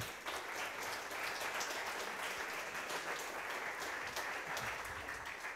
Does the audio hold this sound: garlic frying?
no